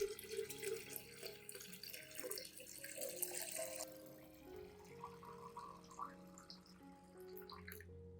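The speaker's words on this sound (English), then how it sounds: "Add 1 liter of clean water at room temperature to dilute the solution." Clean room-temperature water running from a tap to dilute a bread-and-oat plant fertilizer solution, a quiet, steady splashing pour that later thins into softer trickling and drips before stopping.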